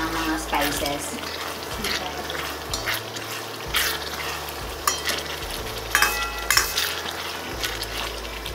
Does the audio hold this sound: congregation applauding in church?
no